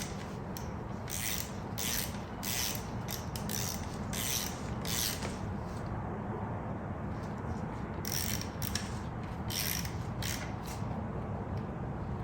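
A ratchet snugging the oil drain bolt on a 2022 Honda Grom 125 during an oil change gives bursts of rapid, crisp clicking over a steady background hiss, close by and with no voices.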